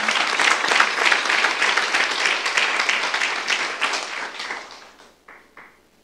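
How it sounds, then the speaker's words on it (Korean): A church youth congregation claps together after a sermon, brisk dense clapping that holds steady, then thins out and trails off into a few scattered final claps. "박수하세요"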